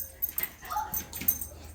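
A dog whimpers close by in a short series of soft, high whines and yips.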